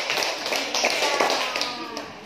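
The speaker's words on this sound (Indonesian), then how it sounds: "Oke, tepuk tangan buat Alia dari kelompok 1." Schoolchildren in an Indonesian classroom clap briefly for a classmate, a quick flurry of close, sharp hand claps amid light chatter.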